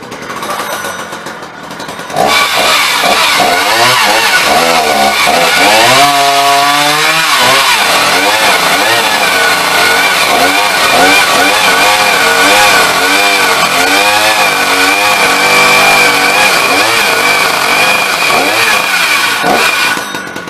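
A refurbished Husqvarna 380CD chainsaw roars to life after a brief quieter start, then runs loud and close for the rest of the clip, its engine pitch rising and falling through repeated revs.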